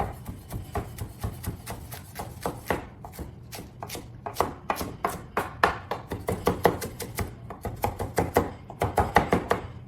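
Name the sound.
chopping cruciferous vegetables for broccoli slaw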